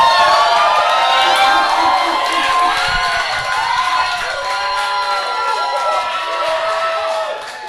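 A live crowd cheers, whoops and shouts loudly in a sustained roar that tapers slightly toward the end, with excited voices rising and falling through it.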